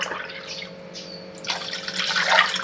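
A glass of water is poured into a bowl while making masala buttermilk, a short splashing pour of under three seconds that grows louder toward the end.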